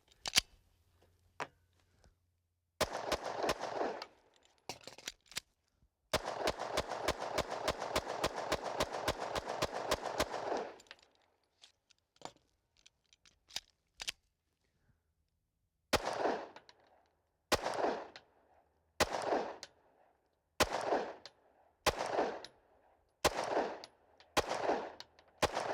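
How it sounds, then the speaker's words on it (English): Handgun gunfire with Liberty Ammunition Civil Defense rounds at an outdoor range: sharp single shots, then rapid strings of fire, a pause of scattered shots, and a final series of evenly spaced bursts, loud and close. "we have shot several hundred rounds now of the Liberty Ammunition"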